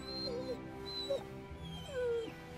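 A dog whimpering and yipping, with thin high whines and short yips repeated three times over a low steady background hum.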